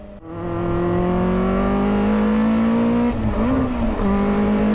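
A Caterham race car lapping the wet Bilster Berg circuit, its engine droning loud and steady with a slowly climbing pitch, a brief lift and dip partway through, then pulling hard again; no voices.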